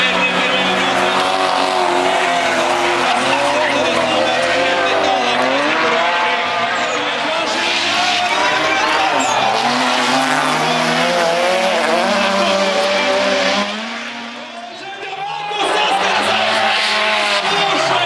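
Drift cars skid through a corner at Bikernieki track in Riga, engines roaring at high revs with continuous tire squeal, loud and sustained, dipping briefly near the end before surging again; a commentator talks over it.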